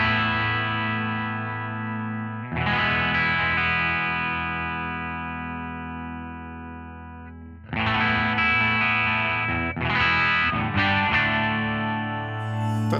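Electric guitar through a 4x10 cabinet simulation in a Two Notes Genome setup, a long sustained chord decaying, then fresh strummed chords and short stabs, loud and alone without talk.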